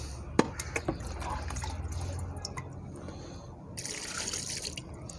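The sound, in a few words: water being poured into a cooking pot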